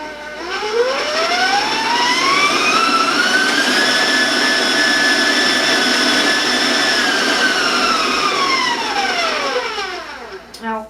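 An electric mixer beats chocolate buttercream frosting with vanilla and a pinch of salt: a loud, close motor whine that ramps up in pitch, holds steady for several seconds, then winds back down.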